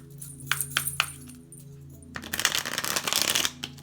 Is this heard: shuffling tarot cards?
yes